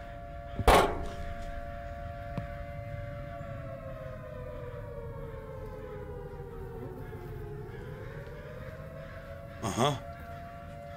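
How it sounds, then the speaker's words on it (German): A wailing civil-defense siren drones steadily through the Summer of '58 video game, its pitch slowly dipping and rising again, with a couple of sharp thumps and a brief spoken interjection. "Auf einmal fangen die Sirenen an."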